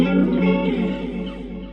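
An electric guitar chord rings through the chorus effect of a Cube Baby Pro multi-effects unit, shimmering and slightly distorted, loud at first and slowly fading over under two seconds.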